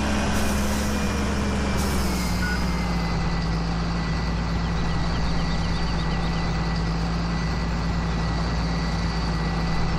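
A heavy truck engine rumbles steadily from Farming Simulator 17, set on a large Australian farm, with a sharp hiss of air brakes near the start, then a constant low drone that stays loud without any voices.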